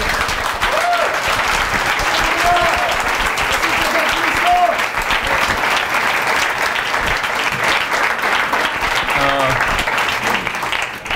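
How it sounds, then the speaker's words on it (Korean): Steady audience applause fills a church service for about eleven seconds, with someone speaking over the clapping. "Vamos a darle un aplauso de gloria al Señor"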